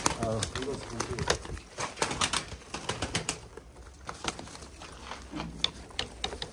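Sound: pigeons in a coop

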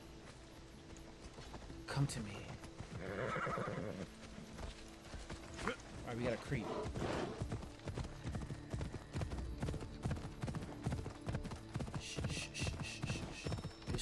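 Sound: horse hooves galloping in video game Assassin's Creed Odyssey

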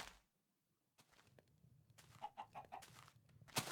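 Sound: chicken clucking in a video game

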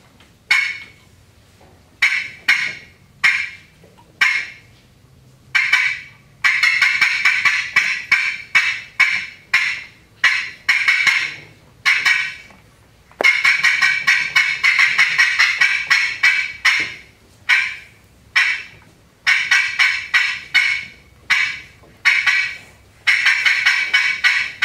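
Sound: friction turkey call imitating cutting of an excited hen

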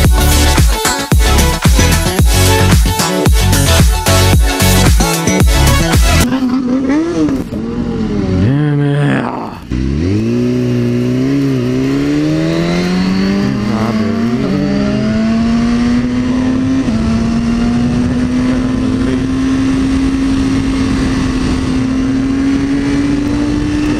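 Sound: motorcycle engine revving

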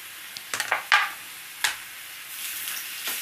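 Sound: garlic added to frying onions in pan

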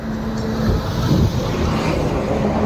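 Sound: road traffic vehicles passing

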